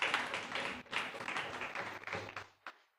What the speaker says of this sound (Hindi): आप लोग जोरदार ताली बजा के प्रभु का धन्यवाद दिए